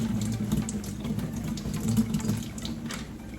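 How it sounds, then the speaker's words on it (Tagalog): A small amount of water runs into a pan of tomato sauce, a steady close trickle like a tap flowing, lasting a few seconds with no talk. "Lagyan natin ng konting water, sayang din."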